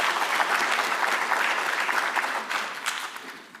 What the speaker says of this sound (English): Can we give Mr. Somanje another round of applause?